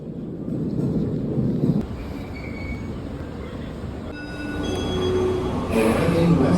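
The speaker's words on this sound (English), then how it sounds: "Here's my train." A San Francisco metro train pulls into a station with a loud rumbling roar that eases, then grows again as the wheels screech and whine in high, sustained squeals on arrival.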